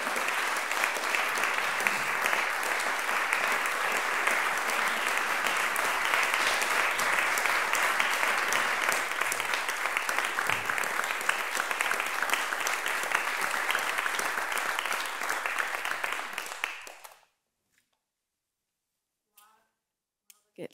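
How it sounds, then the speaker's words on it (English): A recital audience in Melbourne applauds a violinist and cellist as they walk in, a dense, even round of clapping that holds for about seventeen seconds, then stops abruptly into near silence broken by a brief voice. "So please give them a round of applause when they come through the door."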